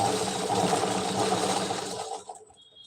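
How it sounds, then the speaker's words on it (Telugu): A sewing machine winds thread onto a bobbin with a steady, close mechanical whir for about two seconds, then stops abruptly, leaving near silence. "ఇక్కడ గీర దగ్గర పెట్టి కింద మెషిన్ నొక్కుతా ఉంటే ఆ బాబిన్ దారం చుట్టుకుంటుంది"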